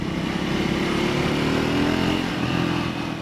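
A Triumph Scrambler 400 X single-cylinder engine thrums continuously while riding, a steady loud drone with little change in pace throughout, heard alone without talk.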